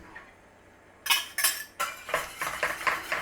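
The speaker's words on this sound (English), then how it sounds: "Little stir on there." A spoon stirs cream sauce with garlic powder and black pepper in a pan. After a quiet second comes a quick run of loud metallic scrapes and clinks against the pan.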